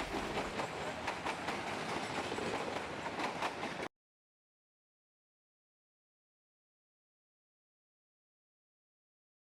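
Local metre gauge train running between Bichia and Majrapurab stations near the forests of Dudhwa in Uttar Pradesh, India, a steady rumble with rhythmic wheel clatter for about four seconds before the sound cuts to silence.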